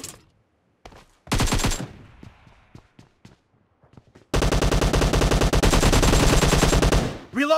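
Automatic weapon fire in the battle-royale video game PUBG: a short loud burst, a few scattered distant single shots, then a long sustained rapid burst, loud and close.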